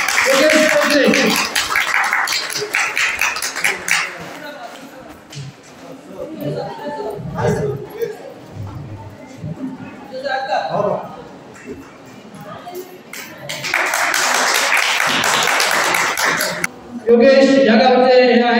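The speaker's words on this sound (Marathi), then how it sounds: "त्यांच्यासाठी पण जोरदार टाळ्या वाजल्या पाहिजे." An audience at a village gathering for disabled people in Harkul, Kankavli, bursts into loud applause at the start and again near the end, with someone speaking into a microphone in between.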